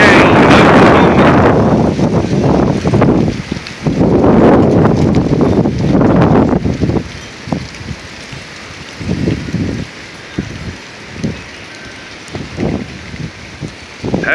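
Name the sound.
big wind gust in a windstorm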